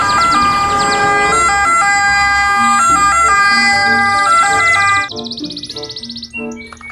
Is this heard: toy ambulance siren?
yes